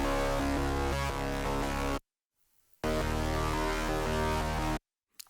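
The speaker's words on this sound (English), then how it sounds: "we also have this synth guitar and bass synth guitar" Layered synth guitar and bass synth guitar parts from a modern metalcore synthwave track play loud and dense in two sustained bursts, separated by a short gap of near silence, with no voices.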